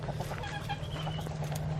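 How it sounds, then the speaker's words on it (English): Chickens cluck and squawk in short bursts during a chase on a farm, with a steady low hum underneath and brief movement noises. "Filming a chicken chase."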